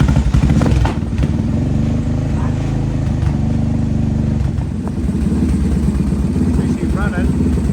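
A Suzuki DR600 single-cylinder motorcycle engine, just kick-started, runs with a loud, steady, slightly high idle thumping close by; a voice speaks over it.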